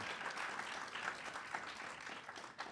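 An audience at an American Cinematheque film club screening of the 1976 Sidney Lumet film Network applauds, a dense, steady wash of clapping throughout with scattered cheers mixed in.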